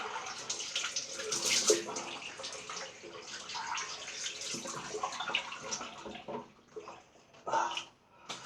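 Water drains out of a vessel filled to overflowing, a running, splashing gush that is strongest early and then trickles in uneven bursts; a voice is faintly present.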